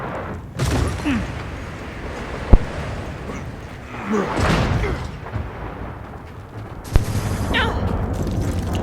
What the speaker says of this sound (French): Ah ouais, il nous envoie l'artillerie quand même